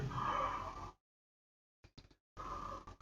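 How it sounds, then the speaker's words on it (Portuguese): Deep, breathy yawn-like inhalations used as a singing exercise to lower the larynx: a long, loud intake, a pause of silence with a few faint clicks, then another strong breath, with no talking. "quando você inspira com essa sensação de bocejo"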